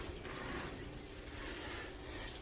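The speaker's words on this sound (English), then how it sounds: "I will water all this right now." Water runs steadily over greenhouse cactus pots during winter, a soft continuous pouring wash close by, with no voices.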